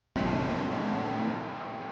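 A car speeds past or accelerates hard in a television drama scene, a sudden loud engine roar that cuts in abruptly and then holds steady, slowly fading.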